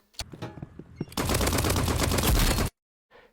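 Video game gunfire in Roblox Rivals: a few separate shots, then a dense, loud automatic burst lasting about a second and a half that cuts off abruptly, followed by a faint trailing sound.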